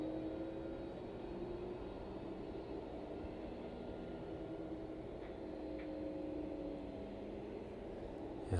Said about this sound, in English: Ryanair to Valencia on the taxiway.